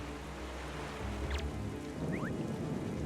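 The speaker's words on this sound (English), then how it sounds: "the game is going to be permanently at night and raining for the next little bit" Steady rain falling at night in The Legend of Zelda: The Wind Waker, a dense, even hiss of downpour that fills the scene from start to finish with no break.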